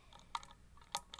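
Faint, tiny metallic clicks from a pick working a springy pin inside a Yale 6-pin mortise cylinder lock, a few quick ticks spread across a second, very close and quiet.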